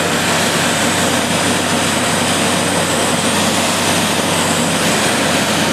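The engine of a Pipistrel Sinus motor glider running in flight, heard from inside the cockpit as a loud, steady propeller drone with constant wind roar and no change or break.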